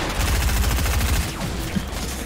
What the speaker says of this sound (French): Je crois que tout le monde te tire dessus de part et d'autre.